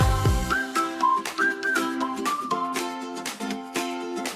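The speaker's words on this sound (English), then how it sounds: "Happy whistle melody." A cheerful melody whistled close and clear, bright bouncing notes over a light musical backing.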